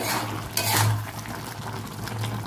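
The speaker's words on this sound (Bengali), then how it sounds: "এবার ভালো করে নেড়ে চেড়ে নেবো।" Potato, ridge gourd and poppy seed are stirred in a pan, with a spoon scraping and clinking softly against the metal over a low, continuous simmering hiss.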